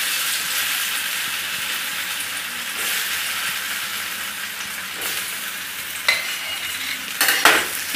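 Pieces of colocasia leaf fry in hot oil with a loud, steady, hissing sizzle, broken near the end by a few utensil clinks and scrapes.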